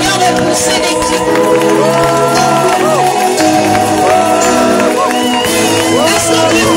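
A church congregation at a worship service in Gabon cheers and shouts for joy, a loud, sustained mass of voices with whoops and calls that fills the whole stretch.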